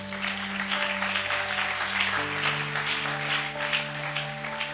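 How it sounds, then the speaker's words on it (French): Church congregation applauding and cheering to acclaim the Lord, a steady wash of clapping and voices over sustained organ or keyboard chords, continuous and fairly loud throughout. "Je voudrais qu'on acclame le Seigneur pour lui."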